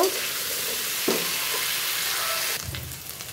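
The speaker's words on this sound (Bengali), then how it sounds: "দেখো ভালো করে আলু আর সজনাগুলো ভেজে নিব" Potatoes and drumsticks fry in a pan with a steady, dense sizzle and hiss, interrupted by a few soft stirring clunks; the sizzle eases slightly near the end, with no speech.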